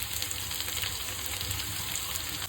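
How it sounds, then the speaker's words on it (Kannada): Chopped onions frying in hot oil with mustard seeds in a pan, a steady close sizzle and crackle running continuously throughout, with no voices. "ಈರುಳ್ಳಿ ಹಾಕೊಂಡು ಒಂದು ಐದು ನಿಮಿಷ ಇದನ್ನ ಚೆನ್ನಾಗಿ ಫ್ರೈ ಮಾಡ್ಕೊಳ್ಳೋಣ"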